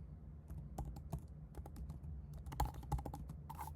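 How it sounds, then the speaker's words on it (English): Fingers type on a computer keyboard up close, with irregular clusters of crisp key clicks and a few heavier strokes, and no voices. "Forget my typing."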